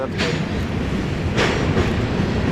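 A long CN freight train with four engines rolls past on the nearest track, a steady loud rumble with rhythmic clacking of wheels over rail joints, while a voice briefly speaks over it.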